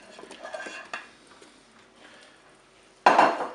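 Potatoes being tipped into the opened pot of a Cookeo multicooker: soft rustles and light knocks, then a sudden loud clatter and tumble of pieces dropping in near the end.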